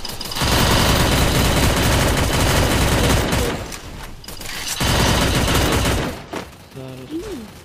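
Rapid gunfire from the video game Garena Free Fire comes in dense, loud bursts with a short lull in between, and a voice briefly breaks through near the end.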